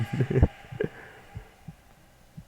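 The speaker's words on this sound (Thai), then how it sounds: "หัวใจเต้นตึกตัก" Heartbeat effect in the Roblox horror game The Rake: slow, steady low thumps that fade gradually, following a few louder opening knocks, with no voice over them.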